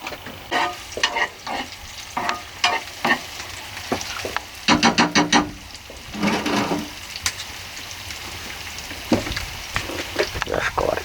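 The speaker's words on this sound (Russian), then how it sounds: "Зашкварчала" Meat frying in a pan sizzles and crackles in bursts of stirring and scraping, close and fairly loud, with a short spell of quieter hissing between.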